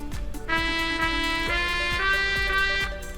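A solo soundfont trumpet in MuseScore plays a quick, bright melodic line with short connected notes over a low accompaniment, steady and fairly close.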